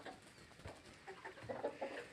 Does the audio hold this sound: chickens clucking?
yes